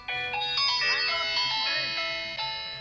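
A mobile phone ringtone plays a bright electronic melody of stacked tonal notes, loud and close, ringing steadily through the whole stretch with no talk over it.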